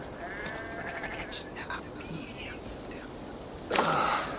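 Sheep bleating in the video game Assassin's Creed Valhalla, a few wavering calls over quiet ambient game sound, followed by a brief louder burst near the end.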